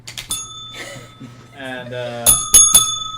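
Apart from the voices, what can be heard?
bell being hit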